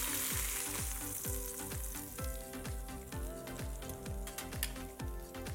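Pork loin searing in a hot pan gives a steady, close sizzle and fry crackle with regular stirring or shifting scrapes, and nobody speaks.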